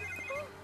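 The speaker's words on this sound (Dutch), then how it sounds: "Laten we wel even de telefoon gaan opnemen, Wessel." A mobile phone rings in The Sims 3, a short electronic ringtone of steady bright tones with a rising chirp near the end, heard alone at low level.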